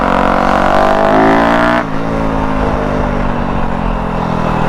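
A 2021 Yamaha YZ250F four-stroke dirt bike engine revs loud and close, pitch rising briefly before dropping into a steady, throbbing run.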